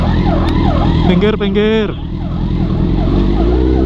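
An ambulance siren wails loudly and continuously through a heavy traffic jam in Lembang, with big sport motorcycles escorting it. A short voice is heard calling out over the siren.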